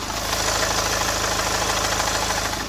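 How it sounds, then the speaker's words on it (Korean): A Hyundai Genesis G80 2.2 diesel idles with the hood open, a close, loud, steady rumble carrying a fine, regular knocking clatter that stays even throughout with no talking. "지금 영상에서 들리시는 것과 같이 굉장히 정숙하고 규칙적인 엔진 사운드 들려주고 있고요"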